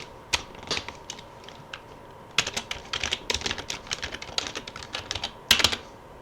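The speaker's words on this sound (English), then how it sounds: "And then you can type in a skin." Fingers typing on a computer keyboard up close, sparse clicks at first, then a quick, irregular run of keystrokes with a sharp cluster near the end.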